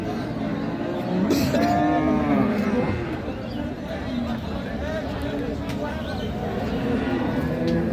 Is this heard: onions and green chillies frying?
no